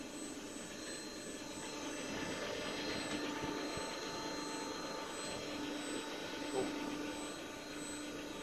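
A common rail test bench running HEUI injectors at a three-station test stand gives off a steady, loud mechanical drone with a constant pitched hum, broadly like an engine, and one brief louder bump near the end.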